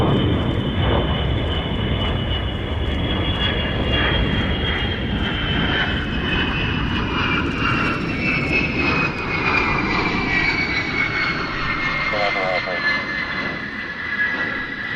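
A fixed-wing plane landing on runway 27 roars steadily for the whole stretch, its engine drone loud with a slowly falling whine, while radio voices talk over it.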